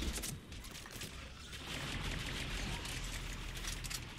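Rapid gunfire in the video game Mass Effect 3, a dense rattling burst of shots continuing throughout, fairly faint and mixed with booming battle noise.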